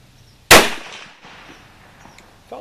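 .30-30 Winchester rifle firing a cast bullet: one sharp, loud shot cracks out close by, then a brief ringing decay and faint echo, with quiet rustling afterward.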